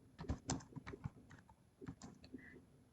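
Java code being typed on a computer keyboard: a quiet, irregular patter of key presses in uneven bursts, close up and with no talking.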